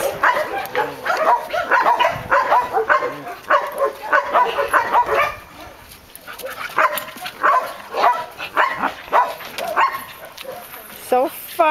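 Playful dog barks and yips come in quick bursts, mixed with whimpers and a person talking over them nearby.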